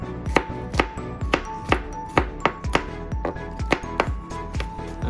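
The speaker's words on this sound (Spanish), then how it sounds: "Este ajo lo voy a picar bien finito." A knife chops garlic finely on a cutting board in sharp, evenly spaced knocks, about three per second, close and distinct with no talking.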